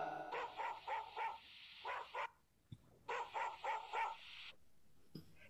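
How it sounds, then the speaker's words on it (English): A dog barks in two short bursts of rapid, repeated yips and woofs, separated by a brief pause, close and fairly loud with no talking over it. "D for dog"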